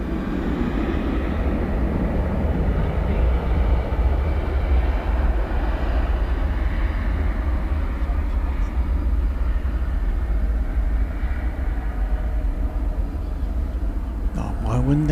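An airliner departing runway 18 right at DFW airport at night roars steadily and loudly throughout, a broad continuous rumble with a brief rising whine near the end, under the noise of the spotting location.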